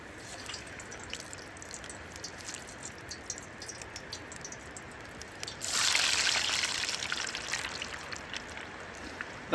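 Potato chips are dropped into hot oil in a pan over a campfire in the Scottish wilderness. A faint, steady background hiss jumps partway through into a louder, bright frying sizzle that slowly eases off.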